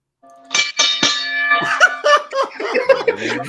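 A hand bell rung several times in quick succession, each strike a bright ringing tone, close and loud, followed by excited voices and laughter.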